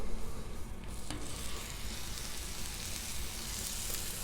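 Burger patties sizzle hard on a hot Blackstone griddle, a loud, dense, continuous hiss with a sharp crackle near the start as the meat lands.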